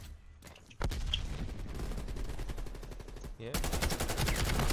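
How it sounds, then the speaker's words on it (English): Rapid automatic gunfire from a Krig 6 rifle in a Black Ops Cold War Hardpoint match, loud bursts running almost continuously with a brief pause, a player's voice speaking briefly over it. "I'm fucking shooting this kid in the back"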